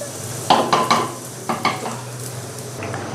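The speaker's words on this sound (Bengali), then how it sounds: "আমার চাল ভাজা পুরোপুরি কমপ্লিট হয়ে গেছে" Rice fries in a pan for beef biryani, with a low sizzle under several quick scraping strokes as it is stirred, close and clear without voices.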